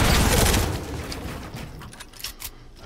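Fortnite gunfire in a loud burst of rapid shots at the start, then fading into sparser distant pops and clatter, with no talking.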